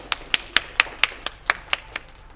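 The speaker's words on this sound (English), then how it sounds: "Let's give Penny a round of applause." Sparse, unhurried clapping from a small audience at a community poetry and art night in a public library, about ten distinct sharp claps over two seconds, moderately close and fairly quiet, with no talking.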